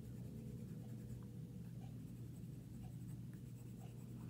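A watercolor pencil scratches across card paper in a quiet, continuous scribble of soft strokes over a low steady hum, with no voices.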